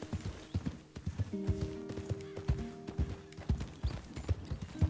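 Rhythmic hoofbeats of a horse galloping in the video game Red Dead Redemption 2, steady and close, with a low game soundtrack droning underneath.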